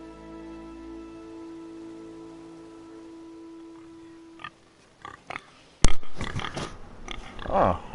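A pig oinks and grunts in the Telltale Game of Thrones video game, short snorting bursts in the later half, with someone talking over them and a quiet musical drone underneath earlier.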